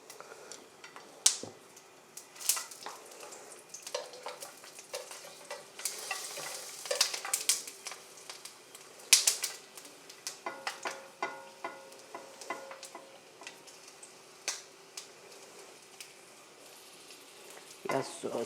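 Sausage sizzles and spits in olive oil in a frying pan, a soft continuous fry broken by sharp pops and stirring scrapes, with voices talking faintly over it.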